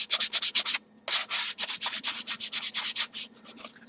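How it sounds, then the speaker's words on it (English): Sharp edges of PVC foamboard being sanded by hand, a rapid series of close, loud rasping strokes in an even rhythm with a brief pause near the start and no voices. "So we sand it down a bit here."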